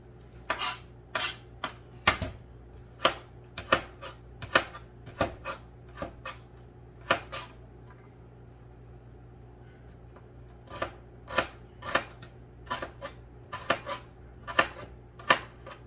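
One whole onion being chopped small with a knife on a board, brisk sharp close chops in quick bursts with a pause midway, no talking.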